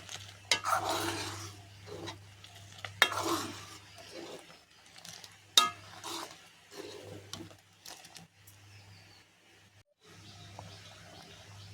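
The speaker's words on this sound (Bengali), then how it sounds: "চিনিটা দিয়ে ভালো করে নাড়াচাড়া করে দিচ্ছি" Dal with sugar being stirred in a pan, a bitter dal made with drumsticks and bitter gourd, heard as quiet, irregular scraping and rubbing strokes with short pauses between them.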